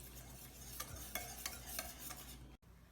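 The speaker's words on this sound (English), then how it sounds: "Next, we're going to add this batter in here, all of this in. And we will now mix it nicely." Cake batter being stirred in a bowl with a utensil, soft scraping strokes repeating every half second or so, close and quiet over a low steady background hum.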